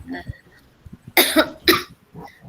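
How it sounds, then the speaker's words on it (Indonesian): A person coughs twice in sharp, close bursts, with a little talk before and softer voice sounds after. "Batuk."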